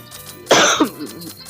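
A single loud cough bursts out close to the mic, followed by a short rough throaty tail, against quiet background.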